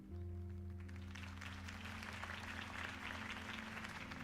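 A video game crowd applauds steadily at a campaign speech, a dense wash of clapping that swells slightly and holds over a low steady hum.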